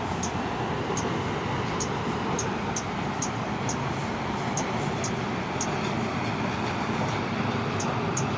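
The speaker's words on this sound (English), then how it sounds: "there's the SkyTrain." A SkyTrain passes in a steady, continuous roar of rail noise with a faint regular ticking of wheels over track joints, held at even loudness throughout.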